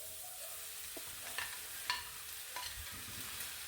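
Chopped tomatoes and onions sauté in a pan for tomato chutney, giving a soft, steady sizzle with a few faint scrapes and stirring clicks scattered through it.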